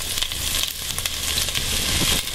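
Onions and minced garlic sizzle steadily in a hot pan, a loud, close, continuous frying hiss with no talk over it.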